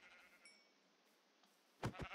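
A blocky sheep in the Minecraft video game bleats near the end, a short wavering two-part cry after a quiet stretch of faint game ambience, with no speech.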